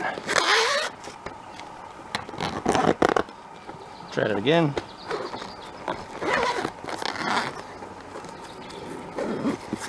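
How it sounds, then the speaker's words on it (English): A zipper on a LiPo battery storage pouch is pulled in several rasping, stop-start bursts close up, mixed with handling noise and someone speaking. "Zipper it up."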